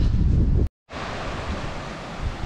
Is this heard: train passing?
no